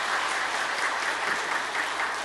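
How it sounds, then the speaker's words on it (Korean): A church congregation applauds steadily to welcome a newcomer during a Sunday worship service, with dense, continuous clapping that fills the room from start to finish. "박수로 환영하겠습니다."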